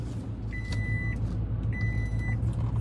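A big truck on the road, its heavy engine a steady low rumble throughout, with two short electronic tones sounding over it.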